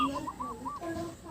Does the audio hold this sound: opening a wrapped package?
no